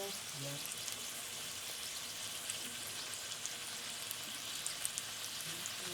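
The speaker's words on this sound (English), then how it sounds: "That means it's frying the tortilla on the bottom right now." Tortilla frying in hot oil in a home kitchen, a steady soft crackling sizzle with faint scattered pops, fairly quiet and continuous throughout.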